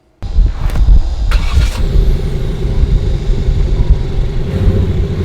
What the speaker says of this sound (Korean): 마치 들리는 소리는 8기통 엔진이 그르렁거리는 것 같습니다